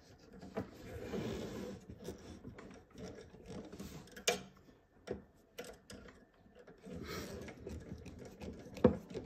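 An AIM screw driven into the top of a left front reinforcement bracket gives a string of close mechanical clicks, ratcheting turns and small knocks, irregular and fairly quiet, with a few sharper taps.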